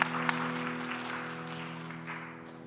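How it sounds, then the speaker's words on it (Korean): A church youth-service congregation claps together while blessing one another, a steady wash of applause over a sustained organ or keyboard chord, fairly faint and even throughout. "서로 축복하시면서 박수 치겠습니다."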